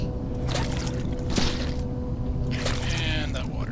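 A mop is dumped into a bucket of gooey, dirty water in the Viscera Cleanup Detail video game, giving brief liquid squishing and sloshing splashes over steady game background noise.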